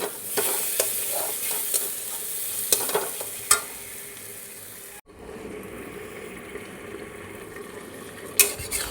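Green chillies and spices fry with a Bombay duck (lote fish) curry in a pan, making a close, continuous sizzle with scraping stir strokes and a few clinks. The sound cuts abruptly partway through and then resumes more quietly.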